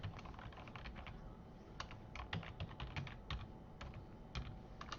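Keys clatter on a computer keyboard in quick, uneven runs of close, crisp taps with short gaps between them.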